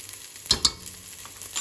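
Onion, tomato and flour sizzling in a pan while a spoon stirs them, two sharp scraping clicks standing out over a quiet frying hiss, with no voices.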